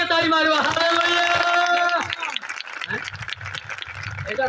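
A congregation claps loudly and steadily at a Christian gathering in a village, breaking in just after a voice or song and continuing as dense, close applause with crowd noise.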